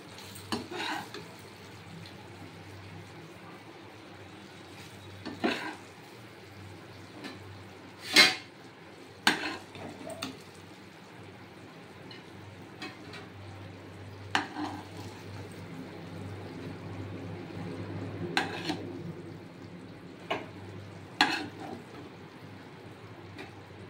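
Chhana gaja sweets fry in a pan as a quiet, low sizzle. Clatters of a utensil against the pan come at irregular intervals, and a few sharp knocks stand out.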